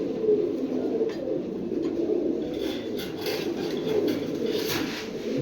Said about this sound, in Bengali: এই যে আরেকটা ঝাঁক কবুতর নর